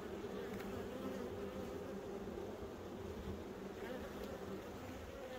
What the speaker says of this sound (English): That box there is two boxes of bees. It is packed.